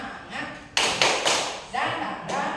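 A group claps out a rhythmic tepuk semangat chant at a learning community gathering, bursts of sharp claps in a patterned beat over several seconds with voices chanting along.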